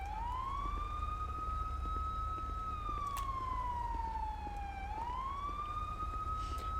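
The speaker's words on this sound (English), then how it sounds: "But I think my siren's on too, ain't it?" A steady wailing police siren in the video game GTA 5 rises and falls slowly over a constant low engine rumble, close and continuous, with no one speaking.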